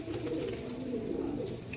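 Ambarsary pigeons, an old Indian breed, coo softly in a low, rolling rhythm. The calls sound fairly quiet and continuous, with no voices.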